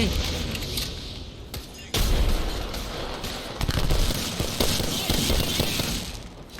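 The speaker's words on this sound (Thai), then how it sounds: "โอ้ยมันปาระเบิดใส่" Loud booming blasts and bursts of gunfire in Apex Legends, with a sharp grenade explosion around the two-second mark amid constant chaotic battle noise.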